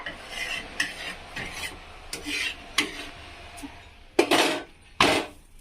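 A metal spatula scraping and flipping a jowar and urad bhakri flatbread on a hot pan, several short rasping scrapes and taps spaced irregularly, the last two louder and closer.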